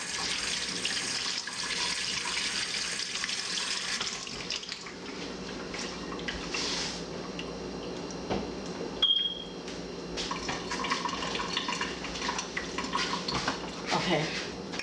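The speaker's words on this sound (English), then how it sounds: "I'm gonna wash my hands and then do it some more." Running water from a kitchen sink tap while hands are washed in the middle of preparing barbecue ribs. A steady faint splash with occasional dish and utensil clinks, mostly on its own.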